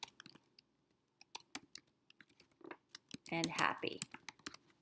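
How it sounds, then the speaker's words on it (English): Keystroke clicks on a computer keyboard while entering text in a design app, scattered quick taps close by, with a brief burst of speech partway through. "Go ahead and highlight it and just go ahead and start typing."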